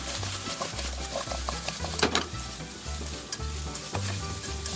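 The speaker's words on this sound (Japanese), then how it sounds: "中火から強めの中火にかけて、水分を飛ばし、全体に調味料を煮絡めます。" A sweet-and-sour sauce with sweet potato and lotus root sizzles in a hot frying pan over medium-high heat while a utensil scrapes and stirs it in irregular strokes, close and fairly loud.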